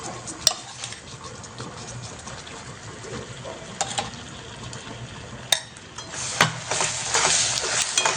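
Ground onion, garlic and coconut masala sautéing in a pan over low flame, with a soft sizzle under scraping stirs and several sharp clinks of a spoon against the pan, growing busier toward the end.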